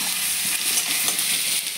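Chopped ginger with five-spice seeds fries in hot oil, producing a loud, even, close sizzle with faint crackles and no voices.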